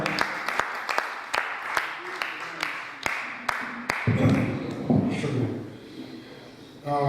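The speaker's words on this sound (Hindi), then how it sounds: "आप सबकी पुरजोश तालियों में दावत कलाम दे रही हूँ नूर अमरोही को।" Sharp, evenly spaced claps ring out at an Urdu poetry recital (mushaira) in Dallas, then swell into a brief burst of audience applause that gradually thins and fades.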